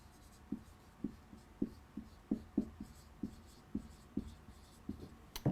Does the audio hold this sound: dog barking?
no